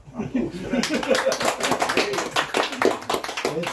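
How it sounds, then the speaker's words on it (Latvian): Audience applause at an estrade ensemble gathering in Kuldīga, a steady wash of many hands clapping that swells after a brief start, with voices and some laughter mixed in. "Aplaus."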